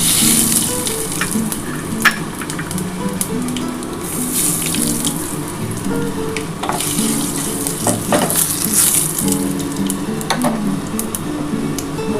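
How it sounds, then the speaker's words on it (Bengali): Dry red chili, bay leaves and whole spices tempering in hot oil for a Bengali bottle gourd, prawn and potato dish, a steady crackling sizzle with scattered sharp pops and occasional clinks of a utensil. "একটা শুকনো লঙ্কা দিলাম আর একটু গোটা দিয়ে ফোড়ন দিলাম"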